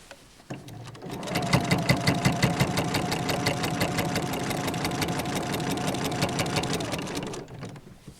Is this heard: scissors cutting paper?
no